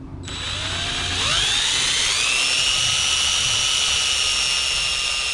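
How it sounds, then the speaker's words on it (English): Power drill boring into the metal frame of a gyro bike, a continuous loud high-pitched whine that starts abruptly, with a tone that bends downward as the bit bites in, then holds steady throughout. "this drill, we're gonna go to town on my frame"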